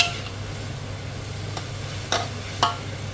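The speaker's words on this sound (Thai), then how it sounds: "แล้วก็ผัดแบบนี้นะคะ ให้สุกๆมากกว่านี้หน่อยเออ แล้วก็ให้เห็นหอมนิ่มๆด้วยค่ะ" Shallots are stir-fried in a pan for a Thai pickled-greens and pork dish, a low steady sizzle broken by a few soft scraping strokes of the spatula.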